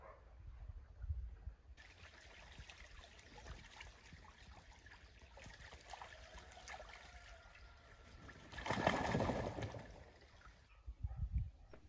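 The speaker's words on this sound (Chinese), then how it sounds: "哗哗的流水声让河山村格外的安静。" A mountain village stream near Chengdu flows with a soft, steady trickling wash, faint and distant, swelling briefly louder near the end with no voices.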